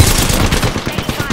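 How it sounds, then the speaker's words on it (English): Rapid automatic gunfire in a video game, loud dense bursts of shots pounding close up for the whole moment, alone with no talk. "Opening fire."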